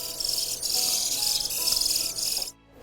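Baby birds at a wild bird rehabilitation center chirp at feeding time, a dense, high, continuous chorus of close twittering that cuts off sharply near the end.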